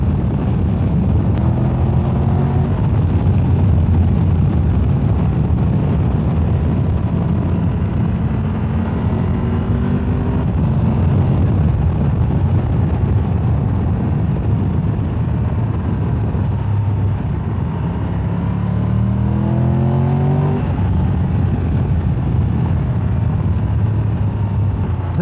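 A car engine revs up and eases off in repeated rising sweeps over about 25 seconds, loud and close, with a steady low rumble underneath and no talking.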